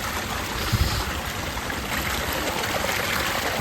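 Mountain stream water in Kumrat Valley, Pakistan, channelled through pipes, rushing in a steady, broad, continuous wash, close and fairly loud, with no talk.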